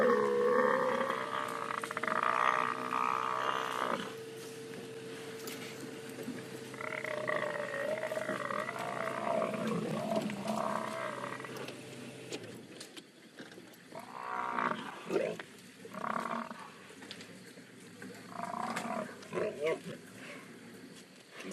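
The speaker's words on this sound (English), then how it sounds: "See how that lioness keeps trying. They keep trying to get to the front. They keep trying to grab him by the nose or by the throat" Lions attacking a buffalo in the wild, a lioness among them: deep roars and growls with bellowing and struggling noises, loud early then broken and intermittent, with a voice talking over parts of it.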